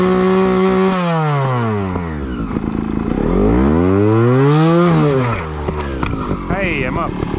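A 2021 Sherco 300 ST Factory trials motorcycle engine revs up and down repeatedly with rising and falling pitch, loud and close, in snow, with a voice briefly underneath.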